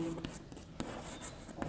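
Chalk or marker writing on a classroom board during a maths lesson, a few short scratchy strokes and taps spread over under two seconds, faint and close against a quiet room.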